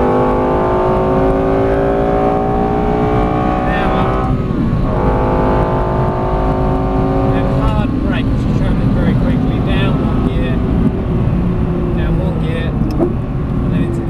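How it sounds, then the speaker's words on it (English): Lexus LFA engine revving hard on the Silverstone circuit, rising and falling through the gears with loud sustained pitch sweeps, a voice talking over it throughout. "See the difference in power there, but you let it rev a bit more"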